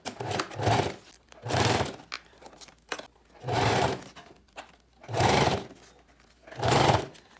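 A sewing machine stitches fabric seam allowances in five short bursts of close, whirring motor noise, each lasting about a second, separated by brief pauses with light handling sounds.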